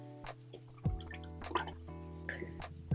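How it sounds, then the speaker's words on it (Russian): A paintbrush is rinsed in a jar of water during an architectural watercolour sketch: quiet, close drips, small splashes and soft clinks over a faint steady hum. "надо ополоснуть кисточку"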